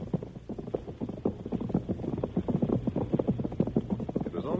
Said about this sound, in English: Behind her thundered the horses of Bart Benson and Butch.